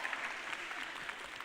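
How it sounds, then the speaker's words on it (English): Audience applause from a crowd at a live stage event, steady and dense throughout with no pauses. "Round of applause, please."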